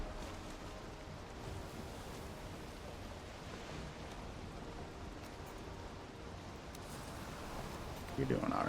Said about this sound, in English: Stop trying to break my boat, waves. I get it's a big old storm and whatnot